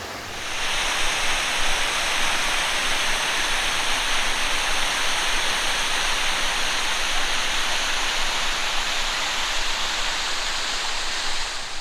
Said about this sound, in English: behind me are the Three Sisters waterfalls